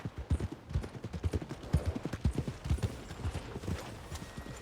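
Horse hooves clip-clop in a steady, brisk rhythm on a dirt street in Red Dead Redemption 2, close and distinct, with a faint game ambience behind and no talk.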